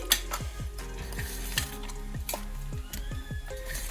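Okra fries with garlic and chili in a pan while a metal spoon stirs it, a steady sizzle under repeated scraping and clinking strokes at a brisk, regular pace, close by.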